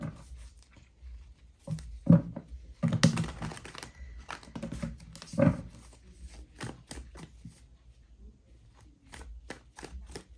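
Tarot cards are shuffled by hand in quiet, irregular riffling and tapping bursts, close and soft, with pauses between the clusters.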